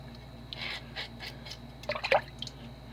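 Water drips and splashes while a scaled bluegill fish is rinsed, soft trickling bursts building to a brief louder splatter, close and fairly quiet.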